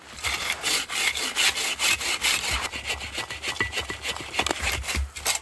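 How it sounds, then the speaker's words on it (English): Rhythmic hand sawing through a log at a winter camp, quick rasping back-and-forth strokes repeating steadily, close and loud with no talking. "When the log is moving all around when you're sawing"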